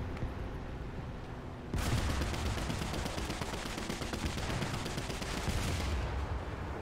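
Gunfire in War Thunder around a Chi-Ha Short Gun tank, a dense continuous crackle of shots that jumps louder after a quieter opening and keeps rattling steadily to the end.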